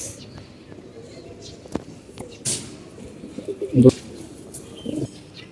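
Several large-bodied pigeons coo in low, throaty bursts inside a loft, with a louder cluster of coos near the end, sharp wing claps and flutters between them, and background chatter beneath.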